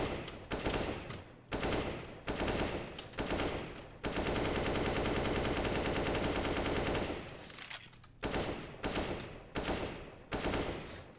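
Gunfire in Counter-Strike: Global Offensive, loud automatic bursts repeating in rapid strings with one long sustained spray in the middle, close and dominant with no talking.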